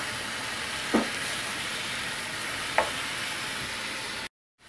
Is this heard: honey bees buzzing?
no